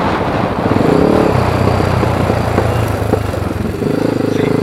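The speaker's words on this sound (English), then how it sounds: "See how I kind of flipped the throttles I went into second gear?" A clutch-equipped quad bike engine runs loud and close, dropping in pitch under braking and then rising as the rider blips the throttle while shifting down to second gear.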